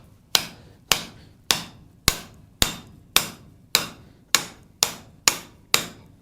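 Steel struck with a hammer on an anvil while driving out the split fork of a scroll bending tool: eleven sharp, ringing blows at a steady, even pace, close and clear, each decaying quickly, with no talk.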